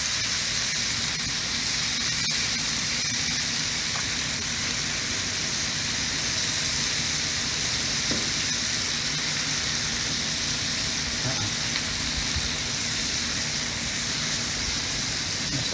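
Trout and vegetables sizzle on a grill, a steady loud broadband hiss that runs unbroken throughout with only faint small pops beneath.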